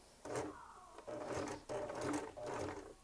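A sewing machine runs in short bursts, starting and stopping about four times as it backstitches, a close, clattering motor whir with brief pauses between runs.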